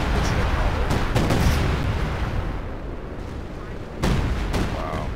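Anti-tank gun fire in the video game Company of Heroes 2, heavy booming shots and explosions repeating over a dense battle din, with a sharper burst near the end and someone talking throughout.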